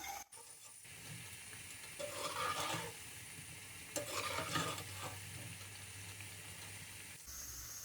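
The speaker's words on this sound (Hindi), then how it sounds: "अब हम इसको दूसरी तरफ से फ्राई करेंगे। गोल्डन कलर आने तक हम इनको फ्राई करेंगे।" Afghani khajoor, sweet wheat-dough fritters, frying in hot oil over medium heat with a steady soft sizzle, swelling into two louder bursts of bubbling as pieces are turned, then settling back to a low hiss.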